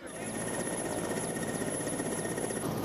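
A military helicopter serving as an ambulance after an earthquake in China drones in a steady, faint, continuous whir with a thin high whine, holding constant throughout.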